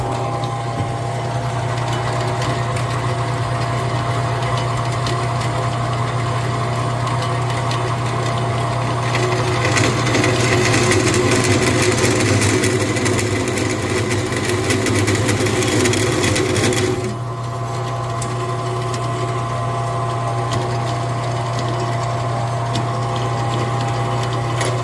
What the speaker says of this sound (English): All right, and here's my bandsaw.